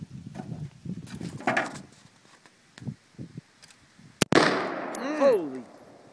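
A single sharp gunshot from an M4 rifle cracks out, loud and close, amid voices before and after.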